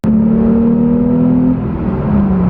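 A Porsche 911 Carrera engine drones loudly and close, holding a steady pitch before easing slightly and picking back up.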